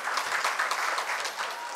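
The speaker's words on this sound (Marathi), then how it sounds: "त्यांचे आपण जोरदार टाळ्या वाजून स्वागत करूया." An audience at a Marathi literary gathering welcomes a senior journalist with warm, sustained applause, a dense even roar of many hands clapping that holds for the whole stretch.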